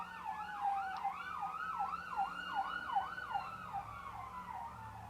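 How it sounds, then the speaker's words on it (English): A wailing siren sweeps rapidly up and down in a repeating yelp pattern, moderately distant, over low road rumble. "I hate the sound of sirens."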